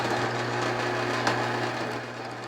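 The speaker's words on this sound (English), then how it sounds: "the drill takes out most of the wood" Drill boring out wood for a mortise joint in a bed frame, a steady high-pitched motor whine with continuous cutting noise, close and fairly loud throughout.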